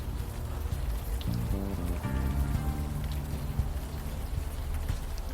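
Steady rain falls throughout a rainy night street scene in the adventure game Unavowed, a constant even hiss of drops on surfaces with faint low musical tones drifting underneath and no talk.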